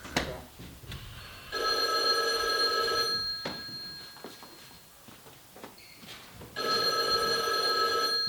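An old-style telephone bell rings during an amateur stage play in an office setting, two long bursts of rapid ringing separated by a pause filled with faint footsteps and stage movement, close and clear.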